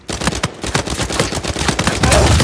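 Rapid, loud automatic gunfire from a firefight in Uncharted 4, with dense overlapping shots from several weapons and no pauses between them.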